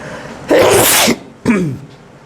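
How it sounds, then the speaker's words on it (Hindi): Two loud, sharp sneezes close to the microphone, the first longer and forceful, the second shorter, with a brief pause between them and no talk. "दूसरी छींक आ ली।"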